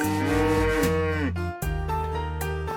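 A cow in the farming game Story of Seasons lets out a loud, long bellowing moo, then a second sustained moo follows after a short break, both heard alone without speech.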